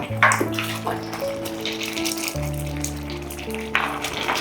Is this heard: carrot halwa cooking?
yes